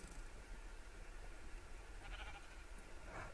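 Sheep bleating in the Minecraft video game, a couple of faint, brief bleats near the end over a steady noisy game background, with no talking.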